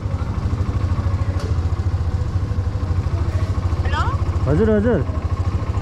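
A motorcycle engine idles nearby with a steady, fast low chug, while a person speaks briefly over it.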